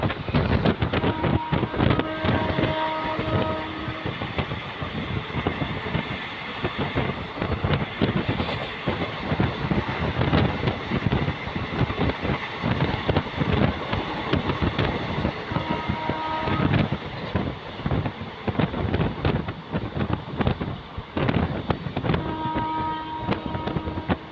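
The Howrah–Rampurhat Shahid Express (12347) runs steadily along the Howrah–Bardhaman chord line, with continuous rumble and rhythmic clickety-clack of wheels over rail joints, plus wind buffeting the microphone, and no voices.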